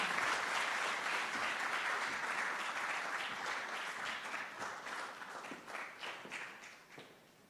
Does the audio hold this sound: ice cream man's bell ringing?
no